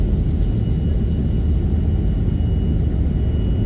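A propeller airliner's engine gives a steady, loud, low rumbling drone in flight on a journey from Asaba to Abuja, with no voices over it.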